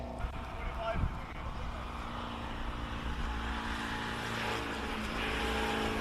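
Classic Austin car racing up a hillclimb course at Simola, its engine droning steadily at a distance for several seconds, the note rising slightly near the end, with a commentator talking over it throughout.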